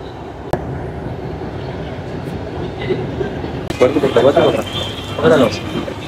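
Steady rumble and rattle of a moving metro train from inside the carriage, with voices talking over the continuous ride noise.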